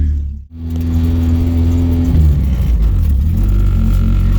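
A Honda engine-swapped car backs out of a garage on a cold day, its engine idling with a steady low rumble after a brief dip, loud and close throughout with no talk.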